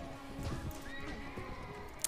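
A horse neighs in the video game Mount & Blade Warband during a medieval battle, one clear whinny with a few hoof clip-clops under faint battle noise.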